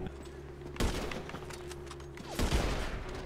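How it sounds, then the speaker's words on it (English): Gunshots in the video game GTA 5 ring out as two loud, sharp bangs about one and a half seconds apart over a steady low background hum. "I shot him."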